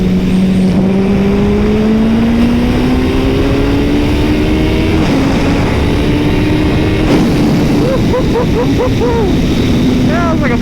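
A motorcycle engine revs and drones while riding at speed, loud and close with wind rush, its pitch climbing steadily, then dipping and surging again with rapid gear-shift revs near the end.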